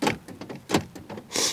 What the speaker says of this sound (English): automatic lock.